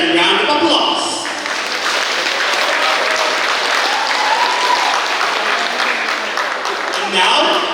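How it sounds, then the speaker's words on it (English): An audience at a high school graduation ceremony claps loudly for the graduates after their musical performance, a dense, steady wash of applause running throughout with some voices mixed in. "Let's give them a round of applause."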